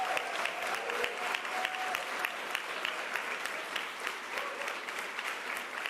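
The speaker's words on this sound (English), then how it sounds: "Let's give him a round of applause." A crowd at a New York bill-signing event applauds for the state assembly speaker, a steady, fairly distant wash of many hands clapping that continues throughout.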